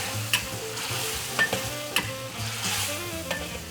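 Lobster pieces and peas sizzle in a hot wok for lobster sauce, a close, steady frying hiss broken by sharp clicks and scrapes of a spatula being stirred through, with no voices.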